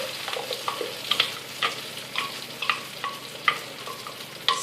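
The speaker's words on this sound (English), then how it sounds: "I used a little bit too much olive oil this time, but it'll blend through. Just have to stir it in." A mixture with olive oil stirred in a pan, with a soft sizzle of frying under irregular scraping and clicking strokes of the utensil against the pan, close and fairly quiet.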